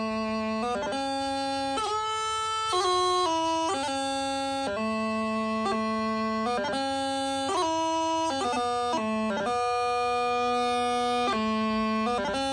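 A bagpipe plays a lively tune, the first part of "The Battle's O'er" twice over, over a constant drone, with quick grace-note flourishes between the held melody notes.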